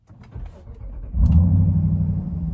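A 2023 Dodge Durango SRT Hellcat with a supercharged 6.2-liter Hemi cranks briefly, then catches and settles into a loud, deep, rumbling idle, heard close by.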